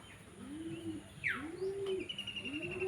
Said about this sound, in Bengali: পায়রা এখন কটা রয়েছে হ্যাঁ উড়ে গেল